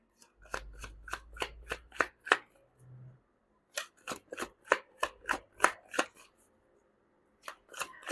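A deck of tarot cards is shuffled in crisp, riffling bursts, a run of quick sharp snaps, a pause, then another series of close, clear flicks.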